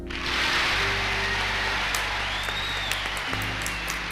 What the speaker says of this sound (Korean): 의원들 전부 일어나서 기립박수를 했습니다